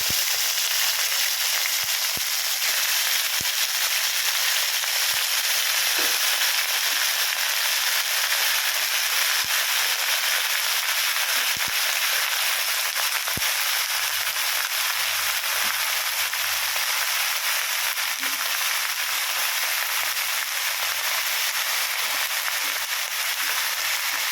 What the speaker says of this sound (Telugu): మనం ఆల్రెడీ కట్ చేసి పెట్టుకున్న వంకాయ ముక్కలు ఉన్నాయి కదా ఇవి తీసుకుని మనం అందులో పోపులో వేసేద్దాం